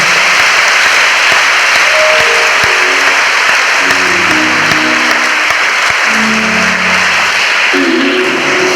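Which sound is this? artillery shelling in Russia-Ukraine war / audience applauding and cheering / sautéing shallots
audience applauding and cheering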